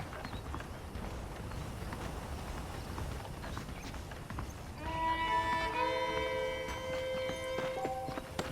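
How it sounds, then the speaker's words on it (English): Horse hooves clip-clop at a walking pace in the Red Dead Redemption video game, a steady, moderately close rhythm over soft ambient noise, joined near the end by sustained tonal music. "The horses are saddled up over here."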